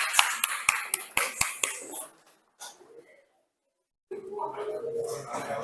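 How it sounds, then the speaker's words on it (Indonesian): Classroom students clap for game winners in a quick, evenly spaced run of about six sharp claps. A brief pause and near silence follow, then soft voices and room noise. "tepuk tangan semuanya."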